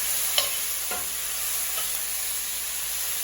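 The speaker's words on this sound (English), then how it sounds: "Saute it nicely." Potato masala sautéing in a pan, a steady bright sizzle of frying with a few brief scrapes of a spoon stirring through it, close and even throughout, with no voices.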